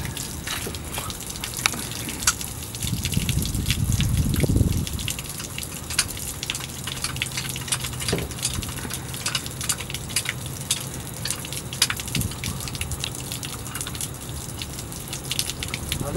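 Water sprays and hisses from a leaking pressurized pipe, a constant gushing spatter with a brief louder surge early on and scattered drips and clicks throughout.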